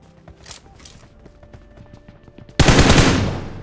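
Gunfire in a mobile battle royale game: light scattered clicks and faint bursts give way to a loud, sustained burst of automatic fire at the end, close and dense.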